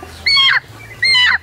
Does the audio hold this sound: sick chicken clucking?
yes